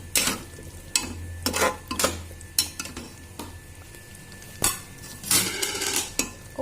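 Chicken marinade ingredients frying in a pressure cooker pot, with a low continuous sizzle and sharp metallic scrapes and clinks of a spoon against the pot, coming in irregular bursts, close and loud.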